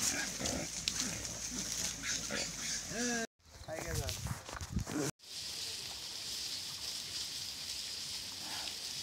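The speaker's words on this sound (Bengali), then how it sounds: "রঘু সুদখোর ওর শুয়োরা আছে দেখেন" Pigs in a village grunt and squeal in short, overlapping bursts, heard close amid outdoor noise, while people talk nearby and the sound briefly cuts out twice.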